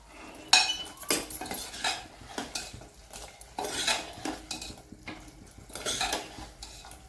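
Utensil stirring ridge gourd (dodka) in a pan after the lid comes off, a run of clinking metallic scrapes and taps at an uneven rhythm, close and moderately loud, with no voices.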